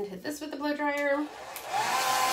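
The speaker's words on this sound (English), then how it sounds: "I'm gonna hit it with the blow dryer just in case." A voice speaks briefly, then a blow dryer switches on and runs with a steady, loud airy roar.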